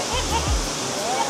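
Rushing water from Bolinao Falls in Pangasinan pours in a dense, steady roar, close and loud throughout the short stretch, with a brief low thump partway through.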